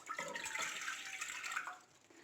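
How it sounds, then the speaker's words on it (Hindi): Water, 300 ml, is poured into a saucepan: a close, continuous splashing and trickling stream lasting about two seconds before tapering off. "सबसे पहले हम सॉस पैन के अंदर 300 ml पानी लेते हैं।"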